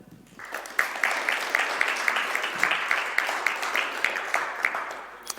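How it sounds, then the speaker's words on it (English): A conference audience applauds to welcome a speaker at a Debian-related talk: a steady, dense wash of many hands clapping, sustained evenly for several seconds, filling the room without voices over it. "Let's welcome Justus with an applause."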